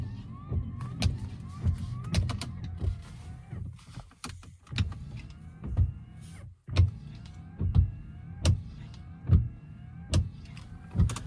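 Windshield wiper blades on a Tata Altroz XZ car chatter and squeak as they sweep the glass, a rhythmic series of sharp close strokes roughly every second, with a brief pause midway.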